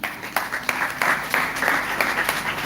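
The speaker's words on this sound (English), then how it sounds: "Let us clap for Jesus" A church congregation applauds, a sustained crowd of clapping with sharper claps standing out in an irregular rhythm, fairly loud and close, with no voices over it.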